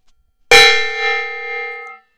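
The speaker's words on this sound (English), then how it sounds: "I will hit that gong. So the gong is coming." A single gong strike in a home model-building workshop rings out loud and close with a sharp attack and a shimmering tone that fades over about a second and a half.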